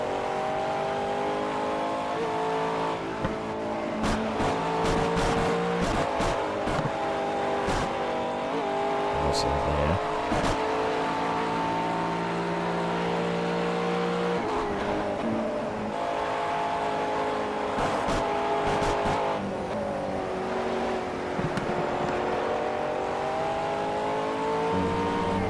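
Race cars in Project CARS roar continuously with rising and falling engine revs through gear changes and braking for slow corners, with sharp bursts and tire noise, while someone talks over the game.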